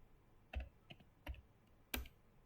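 Keys tapped on a computer keyboard at a quiet desk, four or five separate clicks spaced irregularly over a low room hiss, no voices.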